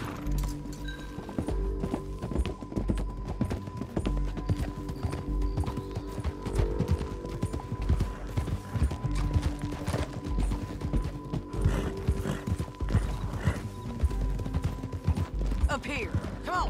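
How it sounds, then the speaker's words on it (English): Horse hooves from Red Dead Redemption 2 clip-clop in a steady rhythmic trot along a road, close and continuous, with creaks and tack jingles, a brief whinny, and game characters talking over it. "Get back on your horse, John."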